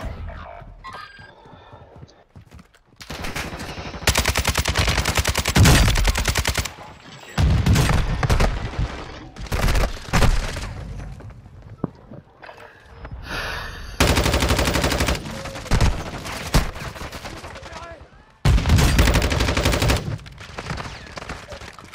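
Call of Duty: Modern Warfare II gunfire comes in several loud sustained bursts of rapid automatic fire, with quiet gaps between them and a little speech in the lulls.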